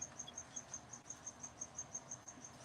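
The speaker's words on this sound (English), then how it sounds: "It's crickets." A single cricket chirps steadily in short, evenly spaced pulses, faint and alone against a quiet background.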